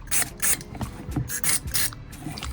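Short bursts from a spray can aimed at a roof micro switch, five or six hissing puffs in an uneven rhythm with small mechanical clicks between them, close and fairly loud.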